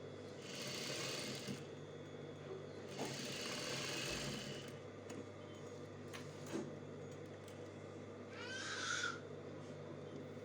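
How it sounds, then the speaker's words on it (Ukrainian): A sewing machine stitches the seam attaching a continuous zipper tape, running in two steady whirring bursts of a second or so each with a quieter pause between, then a brief higher mechanical whine near the end; no one speaks. "Настрочуємо шов пришивання, ширина шва на 5 см."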